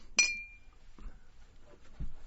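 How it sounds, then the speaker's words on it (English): A single sharp, ringing clink from a pane of glass struck as a stand-in for toasting glasses, bright and close, fading quickly, followed by a couple of soft dull knocks in near silence. "that was a glass clink, in case you're wondering"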